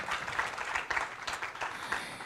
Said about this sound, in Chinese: 让我们用热情的掌声，谢谢台上的5位伙伴